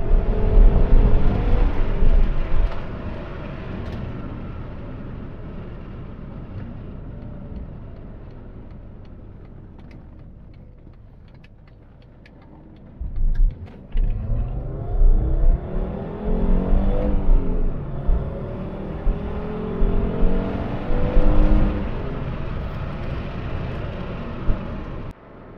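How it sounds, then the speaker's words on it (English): A Fiat Bravo HGT (Type 182) with a five-cylinder engine being driven, its engine droning under load, easing off and quieting mid-clip, then pulling hard again with rising revs and repeated surges. "Oh, this is a nice car to drive."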